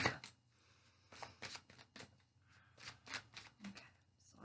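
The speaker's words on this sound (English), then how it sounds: "So I'm going to give my cards a shuffle" Tarot cards being shuffled, a run of soft riffling bursts and taps close by at low volume, with no talking.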